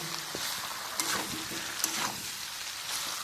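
Jackfruit and potato chunks sauté in a hot pan with a steady, close sizzle, broken by a few sharper crackles and light stirring scrapes throughout.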